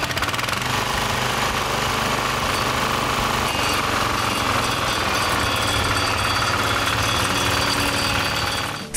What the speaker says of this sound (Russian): для чего же нужен в огороде вот такой вот мини-трактор?